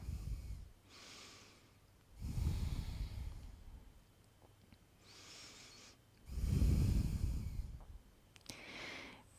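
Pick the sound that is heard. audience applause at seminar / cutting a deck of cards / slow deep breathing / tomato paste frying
slow deep breathing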